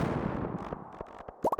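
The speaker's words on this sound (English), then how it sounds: "So we'll put this bomb down." A bomb goes off in a Stardew Valley mine, a booming blast that fades into a decaying rumble, followed by several quick popping game effects, with no talk.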